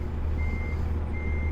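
Truck reversing beeps in American Truck Simulator: a steady, clear electronic tone sounds twice in measured pulses over a constant low engine rumble, with no talking.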